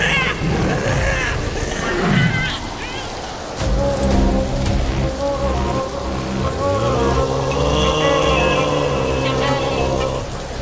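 Rain falls steadily as a continuous wash, overlaid by tonal music and sound effects, with brief voices early on, all at a moderately loud level.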